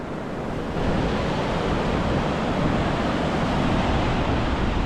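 Ocean surf at Karon Beach in Phuket, Thailand rolls in as a broad, continuous wash of waves that fills the scene, loud and steady with a windy roar and no clear separate breaks.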